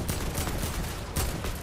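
Rapid bursts of video game gunfire in Fortnite, dense and loud, crackling continuously with a sharper burst near the end, with no voices over it.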